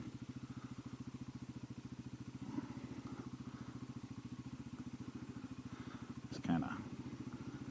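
A Genuine G400C scooter engine idles steadily nearby with a fast, even putter and a brief rev bump midway, while someone speaks a few words over it.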